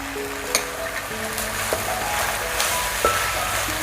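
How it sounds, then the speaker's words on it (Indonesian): Spices with ground coriander, salt and sugar are stir-fried in a pan for nasi babat Madura, giving a constant close sizzle with occasional sharp utensil knocks and scrapes. "Ditumis lagi sampai matang ya."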